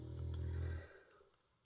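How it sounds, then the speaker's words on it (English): A dog named Lexi snoring nearby, one low, rumbling drawn-out snore that fades into quiet room tone. "you can hear snoring by the way"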